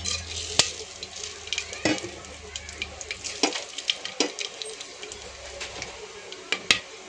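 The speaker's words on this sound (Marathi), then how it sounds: "आता आपलं तेल तापलंय। मी थोडेसे खडे मसाले घेतलेत। हे टाकते पहिलं।" Whole spices crackle and spit in hot oil with ghee, sharp irregular pops and clicks over a low sizzle, with a few louder spatters close by.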